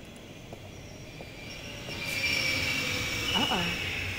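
Subway train in The Longest Journey game, with metal wheels squealing on the rails, a steady rolling rumble and a sharp rising squeal near the end, loud and close with no talking.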